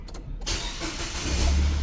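A Nissan Almera with smart-key push-button start cranks and fires up, a brief starter whir giving way to a loud, steady idling engine close by.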